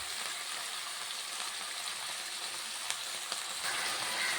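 Banana peel frying at the bottom of a cooking pot, a steady close hiss and sizzle with a couple of faint clicks toward the end.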